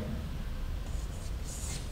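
Chalk or marker scratching across a board during a university chemistry lecture, a few short soft strokes in quick succession under steady low room hum, with no voices.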